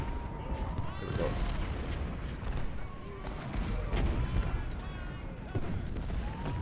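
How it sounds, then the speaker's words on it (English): Cannon fire from Civil War artillery in the video game Ultimate General: Civil War, with repeated booming blasts and crackling volleys rolling densely one after another over a constant low battle rumble. "Cannons are doing well on the road here."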